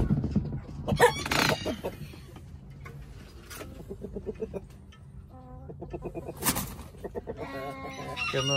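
Plymouth Rock chickens cluck and squawk close by, with a rooster crowing partway through and a few brief bursts of bird calls over a low background.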